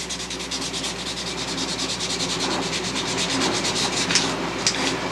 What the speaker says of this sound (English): how much filler to sand off